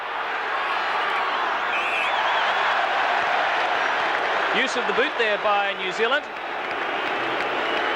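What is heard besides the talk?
rugby stadium crowd cheering and applauding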